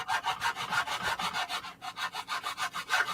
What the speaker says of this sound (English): I am cutting a chunk out the front of the Baneblade.